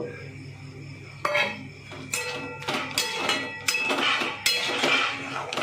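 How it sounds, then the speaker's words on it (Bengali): Spice paste and masala being sautéed in a pan for paneer butter masala, heard as a string of sharp metallic clinks and scrapes of a spoon against the pan over a low background hum, close and irregular. "এবার আমি সব কষাবো আর টমেটোটাও দিয়ে দেব"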